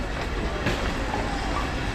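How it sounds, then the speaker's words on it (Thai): An old-fashioned train rumbles steadily past at close range at Toei Studio Kyoto, a continuous low roar with faint rail squeals, no voices. "ตัวนี้ก็จะเป็นรถไฟสมัยโบราณ"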